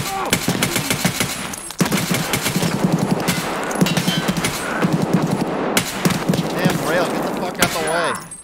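Dense, continuous automatic gunfire in the video game Escape from Tarkov, rapid bursts firing close and loud almost without pause, with a voice talking over the shooting.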